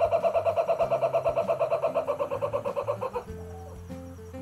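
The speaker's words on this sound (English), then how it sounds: "they even have a kookaburra, which we were lucky enough to catch some of his laughing call as we were leaving the petting zoo area" A kookaburra's laughing call at a zoo petting area, a rapid rhythmic cackling series of about twenty pulsed notes over three seconds, fairly close and clear, then trailing off into quieter background sounds.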